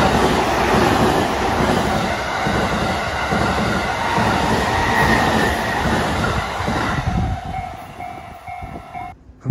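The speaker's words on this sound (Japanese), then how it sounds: "255系が来ましたね" A JR 255 series express train rushes past a level crossing with a loud, continuous rumble and rhythmic wheel clatter. It fades toward the end as the cars clear the crossing, and no one speaks.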